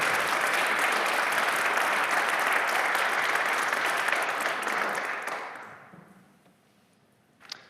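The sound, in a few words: audience applause welcoming speaker Dave Robison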